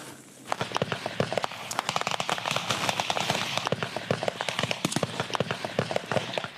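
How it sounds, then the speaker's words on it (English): Gunfire aimed at a platoon returning to base in Afghanistan comes as a rapid, irregular string of sharp cracks and pops at moderate volume. "On the way back to base, the platoon are shot at."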